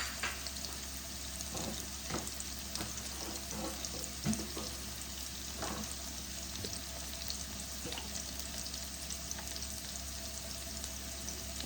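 Onions frying in oil with chopped green chilli, a faint continuous sizzle with occasional soft stirring clicks, heard at a distance against steady background noise and no voices.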